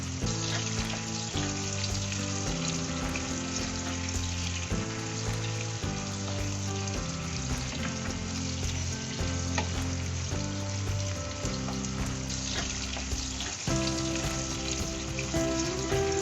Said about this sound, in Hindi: फिर इसके अंदर प्याज डालकर हल्का ब्राउन होने तक भूनेंगे।